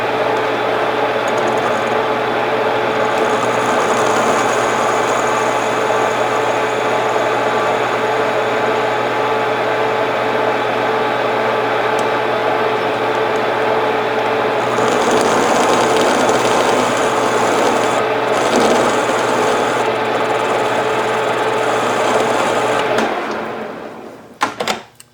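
A lathe cutting a chamfer on an Austin-Healey Sprite/MG Midget pushrod with light cuts, a loud steady machine hum and whir running unbroken for over twenty seconds, then winding down with a few knocks at the end.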